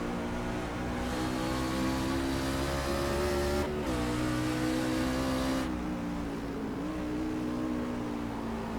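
On-board sound of a racing pickup truck's engine at Mosport in the ASRS AMSOIL Truck Series, a loud steady roar that holds high through the corner, drops briefly on a gear change, then climbs again.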